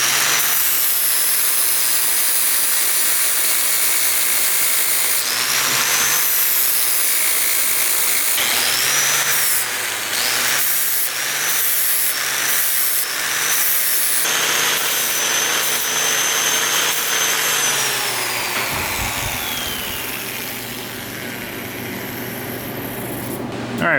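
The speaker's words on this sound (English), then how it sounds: "try to grind this flat part down a little bit in the center, just to give me a little bit tighter of a fit up for the weld" Grinding a flat aluminum part in a workshop while making custom parts for an LS-swapped Miata, a loud, sustained high-pitched whine of a power grinder with repeated bursts as the tool meets the metal, pausing briefly between passes.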